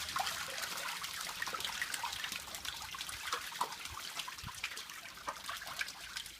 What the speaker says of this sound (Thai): อันนี้เปลี่ยนน้ำครับ